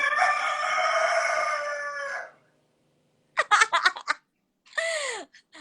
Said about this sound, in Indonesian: Kali kita live hari ini ditemenin ayam ya.